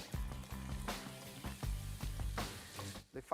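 Sliced Tropea onions frying in oil in a pan, a steady soft sizzle with intermittent scraping and clinking of a utensil as they are stirred, fairly faint.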